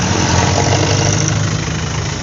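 A Yamaha motorbike engine runs loud and close, a dense, rough mechanical drone holding steady with slight fluctuation and a low thumping undertone, with no voices.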